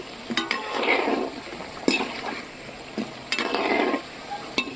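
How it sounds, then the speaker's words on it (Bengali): Soybean kebabs fry in a pan with a soft, steady sizzle, broken by a few sharp clinks and scrapes of a utensil against the pan. The sounds are close and moderately quiet, and nobody speaks. "একটু ভালো করে লাল লাল করে ভাজবো।"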